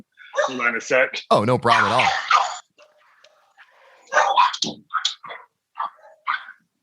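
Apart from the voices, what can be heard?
dogs barking in a home office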